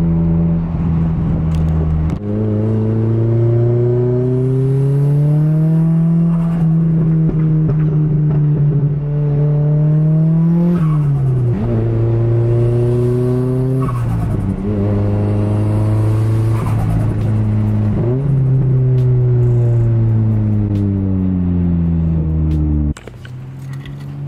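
A Nissan S15 four-cylinder engine idles and revs up and down repeatedly, its throaty drone rising and falling in pitch, loud and close throughout.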